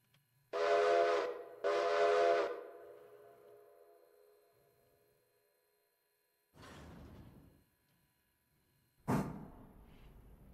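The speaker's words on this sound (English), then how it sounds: "It's our first train. I mean, our first freight train." Freight train in the game Railroader sounding its whistle: two loud, long blasts close together, followed after a quiet gap by two shorter, fainter bursts, with no talk.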